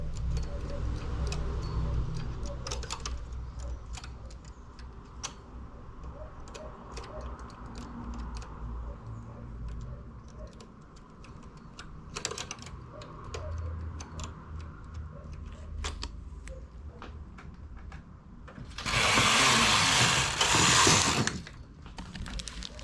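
A knitting machine works a simple rectangular vest with a carriage, giving a steady mechanical clatter and ticking. A brief louder whoosh comes near the end.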